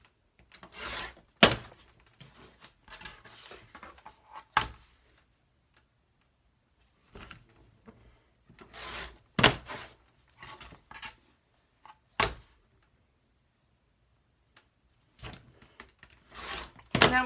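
A rotary cutter slices quilt block fabric against a ruler on a muslin foundation, producing sharp scraping strokes and soft rubbing sounds in irregular bursts separated by silent pauses, close and fairly quiet.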